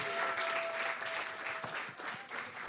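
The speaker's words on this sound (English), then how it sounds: "Keep the applause going, please." Faint, distant audience applause for an award winner at a farming association event, a steady patter of clapping with a few sharper claps standing out.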